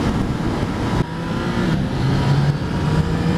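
A 2016 Yamaha XSR-900 motorcycle engine accelerates hard in third gear near 100 km/h, a loud, continuous rising drone with steady wind roar and no voices over it.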